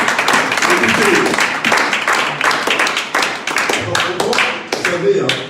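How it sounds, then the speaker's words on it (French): A church congregation claps during a worship service, a dense run of sharp hand claps with a steady rhythm that continues throughout, with voices mixed in. "applaudis comme réellement quelqu'un qui apprécie"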